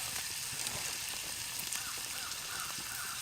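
Bacon fries in a pan at an ATV camp with a steady crackling sizzle, a constant hiss with scattered pops, fairly quiet and close.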